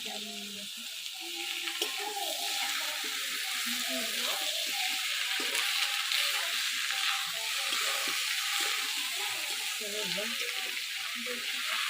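Steady sizzling of vegetables frying in a pan for a Katla fish-head dish, continuous and close, with people talking over it throughout.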